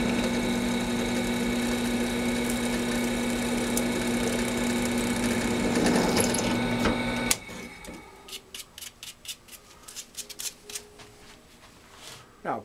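A power drill bores into aluminum for a motorcycle camera mount, a loud steady whirring grind that cuts off abruptly midway, followed by sparse clicks and taps of handling the part.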